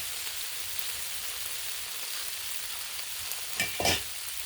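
Pasta frying on a Blackstone griddle, giving a steady, even sizzle throughout with a brief clatter near the end, close and moderately quiet.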